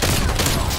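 A loud, close shotgun blast from a Marshal shotgun pistol in a video game, one broad, crashing report with a rough, noisy decay.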